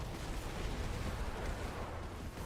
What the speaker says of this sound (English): Watch for the explosions again for me.